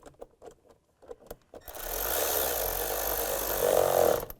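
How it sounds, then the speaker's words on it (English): Worm clamps on hoses of a GMC Acadia intake manifold are tightened with a tool: a few sharp clicks and taps first, then a sustained buzzing whir of a power driver running close and fairly loud. "Hook this hose up in the back, and we'll tighten all those worm clamps down."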